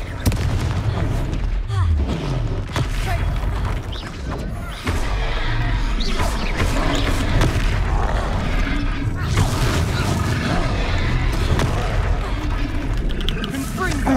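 Repeated Confringo fire-spell blasts in Hogwarts Legacy, a dense run of booming, crackling impacts over busy game effects and music, loud and close, with a voice speaking over parts of it.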